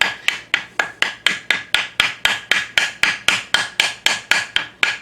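A small hammer taps a conch shell to widen an opening, about eighteen sharp, evenly spaced strikes in a quick steady rhythm, close and clear with no talking.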